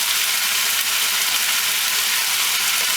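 Chicken curry with tomatoes sizzling steadily in a pan over lowered heat, a dense even hiss that stays constant and close with no other sounds.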